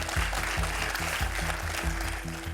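Studio audience applause on the French TV quiz show Questions pour un Champion, a steady, moderately loud wash of clapping with low musical tones pulsing underneath.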